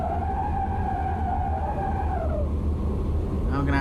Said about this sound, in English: engine has hit the ground